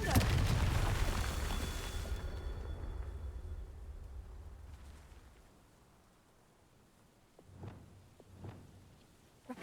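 A Confringo fire spell blasts in Hogwarts Legacy, a loud, booming burst that fades into a long rumbling tail, followed later by a couple of softer impacts.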